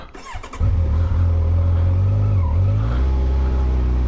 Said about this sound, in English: let's go and ride the Versys 1000. Let's go ahead and fire this bad boy up.